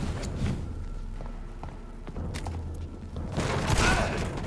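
Combat in the video game Vampyr brings a few dull booming shots and thuds under a steady rumble of game noise, building to a louder burst near the end.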